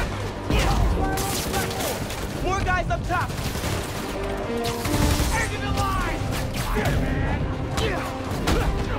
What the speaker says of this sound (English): Police and escapees are shooting it out!